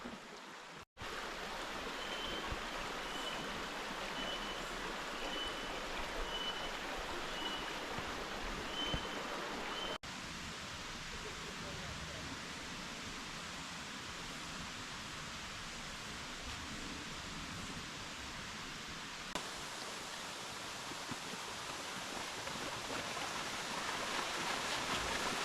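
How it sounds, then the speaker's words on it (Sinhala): A river flows steadily beneath a natural rock bridge in Australia, a dense, continuous rush of water with no voices, holding an even level throughout. "යටින් වතුර පහර ස්වභාවිකව ගලාගෙන යනවා."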